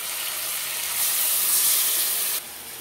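Ground spice paste hits a hot cooking pan for a tilapia curry with drumstick and potato, giving a steady close hiss and sizzle that swells briefly before easing slightly.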